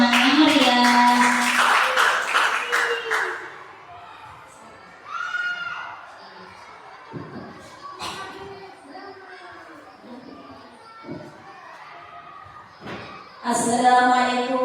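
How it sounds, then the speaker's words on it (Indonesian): Audience applause and cheering at a school gathering for mothers, loud dense clapping with shouts at the start that fades out, followed by someone speaking and brief crowd responses. "Beri tepuk tangan yang meriah."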